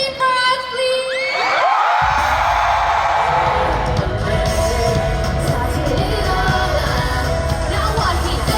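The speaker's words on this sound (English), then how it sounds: "Can you scream for us, please?" At a concert, thin high voices and music give way to a loud surge of crowd screaming and cheering that stays intense and continuous, packed with shrieks and whoops.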